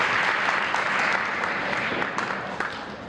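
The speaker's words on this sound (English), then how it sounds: "Another round of applause for Mr. Shmuel." Audience at an Assyrian language and culture celebratory dinner in Niles, Illinois, applauding in a thick, continuous burst of clapping that fades slightly toward the end.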